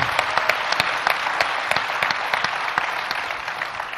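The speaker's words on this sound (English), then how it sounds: "How about a round of applause for them," An audience at a Military Child Education Coalition panel applauds the student panelists, with sustained, even clapping and distinct individual claps standing out throughout.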